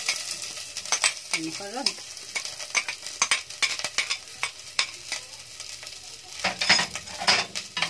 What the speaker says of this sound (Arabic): الزبده اهي بدات تسيح، تشيلها شويه اهي، بعدين بحط البصل